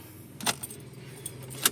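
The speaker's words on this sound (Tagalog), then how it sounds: "Ayan, susi." Car keys for a 2017 Ford EcoSport jangle close by in a few sharp metallic clinks, spaced apart inside a quiet car with no talking.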